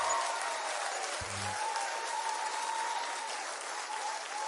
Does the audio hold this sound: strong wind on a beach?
no